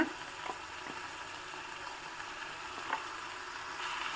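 Ground lentil and coconut masala simmering in a pot, a steady bubbling and soft sizzling hiss with occasional pops, close and continuous without talk.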